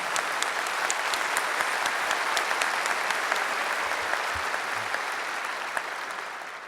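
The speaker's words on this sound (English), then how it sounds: "Round of applause." A large audience at a Kansas City University commencement ceremony applauds steadily, a dense wash of clapping at moderate distance that stays even and slowly tapers near the end.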